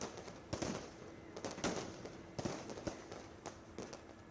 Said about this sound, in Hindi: जहां पर आतिशबाजी के साथ साथ भव्य लाइटिंग नजारे को और खूबसूरत बना रही है